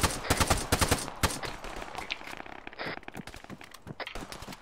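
Gunfire and smoke rounds go off in a video game as a burst of sharp, rapid shots at the start, followed by scattered, softer pops and crackles.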